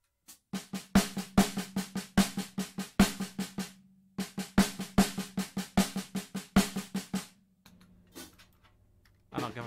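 Drums playing a paradiddle pattern on a crisp, dry surface, rapid even strokes with accented hits in two phrases, then a short quieter tail, close and without talk.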